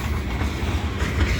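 A CN grain freight train rolls past close by, a loud continuous rumble of rail cars with rhythmic wheel clatter on the track.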